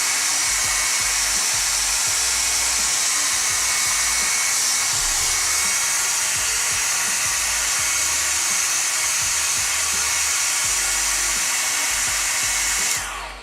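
A hair dryer with its diffuser taken off runs steadily at close range to dry wet paint on a Warhammer 40k Dark Angels Nephilim jetfighter model, a continuous loud airy whoosh and motor whine that cuts off at the very end.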